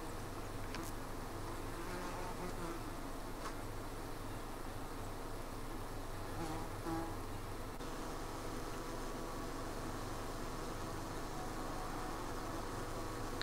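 Honey bees and yellow jacket wasps buzz continuously at a beehive under attack, a dense steady drone close by with occasional louder passes of individual insects.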